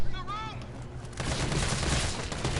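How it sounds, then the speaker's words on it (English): Handgun shots in the Resident Evil 3 remake, a rapid string of close gunfire that breaks in partway through and continues densely, following a brief chirping sound at the start. "Just empty out our handgun bullets through the first part of the round here."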